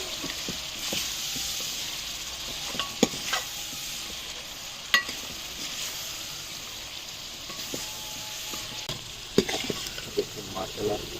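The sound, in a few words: beef frying and being stirred in a karahi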